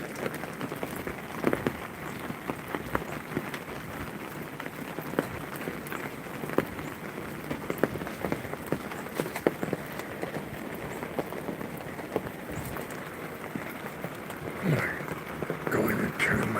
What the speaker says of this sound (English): let's get back to listening to the rain